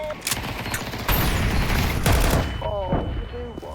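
Gunfire in the video game Counter-Strike 2, a rapid loud burst of shots with sharp cracks and booming reports, followed by fainter game sounds.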